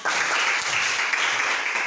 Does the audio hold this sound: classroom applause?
yes